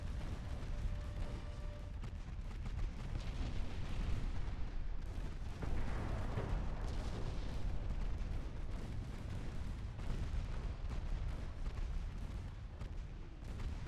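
Ammunition cooking off aboard a warship in Ultimate Admiral Dreadnoughts, a dense rolling barrage of deep booms and bursts that rumbles on without pause.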